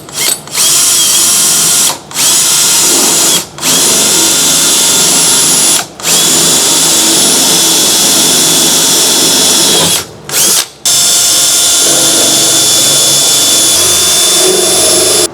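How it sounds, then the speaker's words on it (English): A power drill with a 5/16 bit whines loudly and steadily drilling through a truck bed, stopping briefly several times between bursts of drilling, close up with no talking. "we're going to use a drill to drill through your truck bed"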